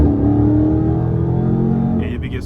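A Dodge Charger engine roars at a steady, loud, close pitch as the driver floors it, then drops off abruptly near the end.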